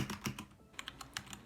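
Keys clack on a Keychron K2 v2 mechanical keyboard, a short run of distinct close keystrokes at an uneven pace, clear and alone without talk.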